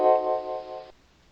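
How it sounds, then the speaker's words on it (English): Short electronic notification chime from MetaTrader 4 forex trading software connecting to a demo account at login, a single steady tone just under a second long that cuts off cleanly, alone and fairly quiet. "you heard the noises of it connecting me to my demo account"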